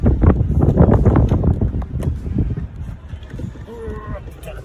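Gusty wind buffets the microphone beside an Opel Corsa electric car with low rumbling bursts, loudest at first and then easing, while faint voices murmur underneath.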